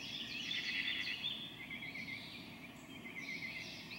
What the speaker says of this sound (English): I hear a cardinal and a mockingbird.